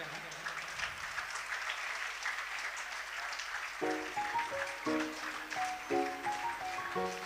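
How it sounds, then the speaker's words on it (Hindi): Applause at a parish day celebration welcomes a priest, moderate and diffuse, with music and tonal notes joining partway through. "तालियों के साथ स्वागत करते हैं।"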